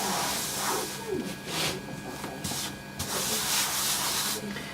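A fondant cutter slides around on a cutting mat, making soft repeated scraping and rubbing swishes with a hissy texture. The sound is close and fairly quiet.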